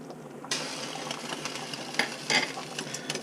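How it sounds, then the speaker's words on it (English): Veal stew, blanquette de veau with added bouillon, being stirred in a pot, soft scraping and liquid swishing strokes with a few louder scrapes, quiet and close. "And I mix."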